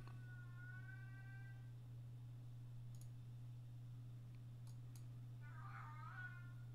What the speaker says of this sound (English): Wow, that cat is loud.